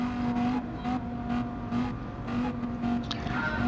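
Race car engine at full throttle in GT Sport, a loud droning whine pulsing through repeated upshifts, with brief dips between gears as the revs climb again.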